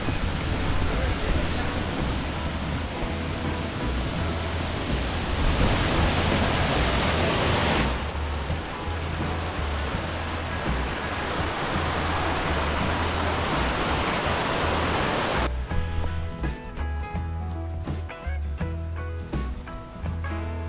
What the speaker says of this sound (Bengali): বামনি ফলসের দিকে নামছি এখন জল তো থাকার কথা দেখা যাক কতটা জল আছে